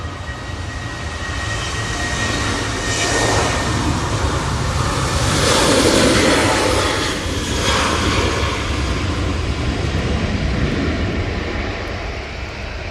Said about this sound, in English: Jet2 now on the roll. This is off to Barcelona.